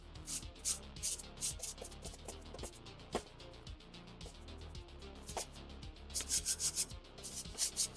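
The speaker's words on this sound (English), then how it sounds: "Just let it run its bristles in between there and loosen up all the nastiness." Brush bristles scrub dust and grime from the inside of a first-generation Xbox One being refurbished, giving a steady close scratchy rubbing with quick repeated strokes that grow louder and busier near the end.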